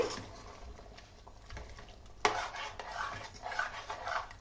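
Chicken biryani marinade being stirred with lemon juice for an Ambur-style dish, giving soft scraping and clinking of a spoon against a bowl, quiet at first and then busier, wetter mixing in the second half.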